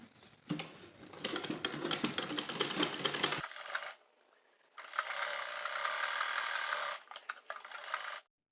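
A sewing machine stitches the side seam of a baby dress in two bursts of dense mechanical rattling, with a short pause between them, then stops.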